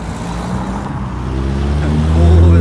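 A Porsche drives away from a Scottish car meet, its engine note loud and close and building in a rising drone over a couple of seconds.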